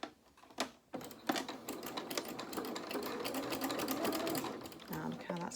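Sewing machine running steadily as it stitches across fabric to neaten the edges, a fast close whirring rattle after a few short starts, with quiet talk over it.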